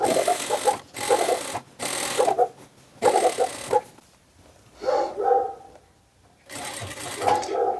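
Sewing machine topstitching a peplum blouse runs in several short close bursts separated by pauses, with a dog barking intermittently between runs.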